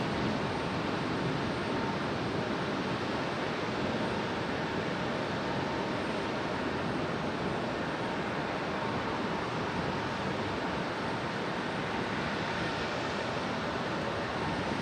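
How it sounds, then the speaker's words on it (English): A steady, broad roar of an Airbus A320neo jet at Raleigh-Durham International Airport fills the whole stretch, constant and fairly distant, with no voices. "the whale noises you heard was this A320"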